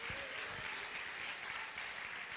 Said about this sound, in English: Somebody clap your hands and praise him.